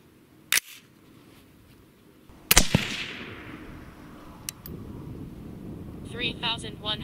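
An AR15 rifle firing a .223 handload with a Hornady 53-grain V-Max bullet outdoors, two sharp loud reports a couple of seconds apart, with wind noise and a brief faint voice near the end.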